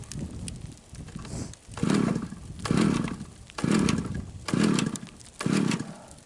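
Five rhythmic pulls of a small engine's starter cord, each a brief sputtering roar that dies away without the motor catching.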